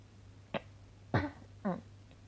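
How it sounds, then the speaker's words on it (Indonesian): Three short coughs, a light one followed by two heavier bursts, close by in a quiet room with a low hum. "Maaf, lagi batuk."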